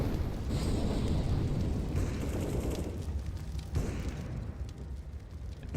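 Grenades and a molotov going off in a Counter-Strike professional esports match, a dense, loud roar of blasts and burning rumble that runs continuously with a slight dip near the end.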